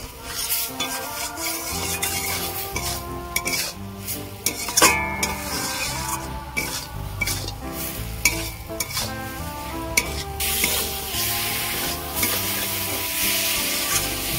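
Spices and salt being sautéed in a pan while fried koi fish waits nearby, with continuous sizzling overlaid by repeated scraping and clattering of a spoon stirring against the pan, close and busy throughout.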